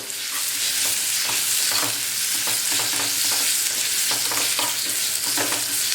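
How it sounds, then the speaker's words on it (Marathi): Potato-vada filling with turmeric being sautéed in a pan, a continuous sizzle broken by a steady run of stirring scrapes, close and moderately loud. "हे सगळं छान मिक्स करायचं आहे दोन मिनटं जर आपण परतवून घेणार आहोत"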